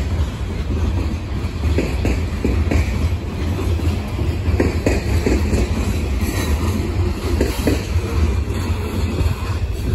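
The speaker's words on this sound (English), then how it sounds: "here we see 281-04 rolling northbound with CP8642 leading, CP7036 trailing, and CP4452 trailing." A northbound freight train led by CP locomotives rolls past close by, a loud, continuous rumble of wheels and rail cars with rhythmic clicks and faint squeals throughout.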